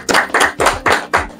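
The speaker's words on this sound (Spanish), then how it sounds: "Vamos a dar un aplauso." Five sharp, close hand claps in a steady rhythm, loud and distinct with brief gaps between them, at a political talk gathering.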